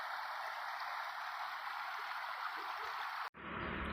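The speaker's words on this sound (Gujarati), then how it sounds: "પહેલી વાર શ્રાવણ મહિનામાં વેકરો આવ્યો છે. તમે જોઈ શકો છો, તો આ વેકરો જાય છે અમારે." Monsoon floodwater rushing down a Gir forest river in the month of Shravan, a steady hissing, far-off flow that holds even and fairly faint until an abrupt cut near the end.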